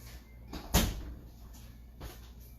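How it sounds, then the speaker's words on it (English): A door is pushed shut indoors with one solid thud, followed by a quieter knock about a second later, against low room noise. "Let me close this door."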